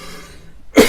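A single sharp cough bursts out near the end after a quiet moment, loud and close.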